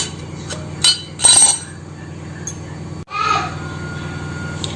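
A metal disc drops into an idiyappam press with a few sharp metallic clinks and knocks, followed by a firmer clunk, close up over a low steady hum.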